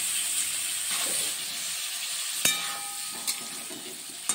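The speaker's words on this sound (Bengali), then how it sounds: "প্রথমে অল্প তেলে এঁচোড়টা আর সয়াবিনটা আমি ভেজে নেব।" Jackfruit and soybean fry in a little mustard oil with a steady, close hiss and sizzle, broken by a few sharp clinks of a utensil against the pan.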